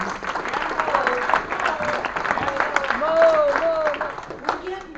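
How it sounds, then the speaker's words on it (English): An audience at a local Tea Party meeting claps steadily for several seconds, dense applause filling the room while voices and a few whoops rise over it. "give him a round of applause"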